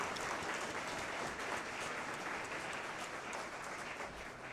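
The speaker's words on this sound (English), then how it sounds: "Let's have a big round of applause." Audience applause at a public research forum on bone and joint diseases, a steady wash of many hands clapping at moderate distance, tapering slightly toward the end.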